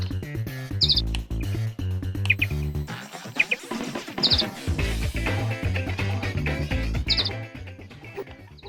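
Brief bird chirps recur every few seconds in the N64 homebrew game Swoop 64, where the player flies as a bird, heard over continuous game music.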